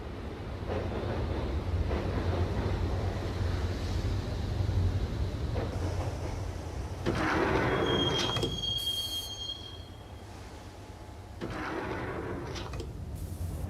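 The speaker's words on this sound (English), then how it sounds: "the train doors had already shut behind me, and I was in for the ride" A train ride in the Max Payne video game: heavy rolling rumble and clatter of the carriage with sharp wheel squeals, loud and close throughout, without any speech.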